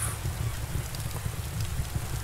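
Steady rain falls outdoors during home improvement work, a continuous low patter and wash filling the whole stretch at a moderate, even level with no voices.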